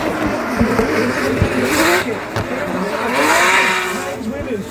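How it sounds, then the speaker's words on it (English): Drift cars sliding through the circuit at a Drift Masters competition in Ireland, engines wailing and shifting pitch with tyre noise over a loud continuous roar, with commentary running over the top. "Toale Kavir fires through the circuit"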